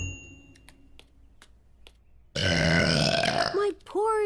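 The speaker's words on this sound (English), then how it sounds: "flower burps are so romantic" A cartoon character lets out a long, loud flower burp that rises into a warbling croak, heard alone after a quiet stretch with a few soft ticks.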